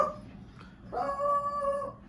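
Dogs in a home kitchen howl and whine at someone coming to the door, a quiet murmur at first that rises after a second into a sustained, wavering howl.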